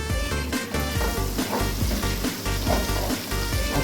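Cauliflower frying in hot oil, seasoned with turmeric, gives a steady, loud sizzle with crackling spits and a few stirring knocks throughout, alone with no voices.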